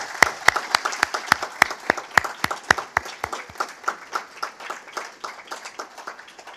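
Scattered applause at a seniors' awards ceremony: a few sharp, close claps stand out at first, then the clapping thins into lighter, quicker patter that slowly fades, with no voices over it.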